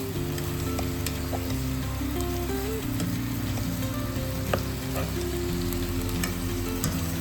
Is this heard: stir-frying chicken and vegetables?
yes